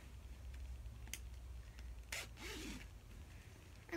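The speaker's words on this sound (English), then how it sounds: "Okay, let's start zipping." A sleeping bag is zipped up in quiet surroundings: a few faint, short zipper rasps, with the longest pull coming about halfway through.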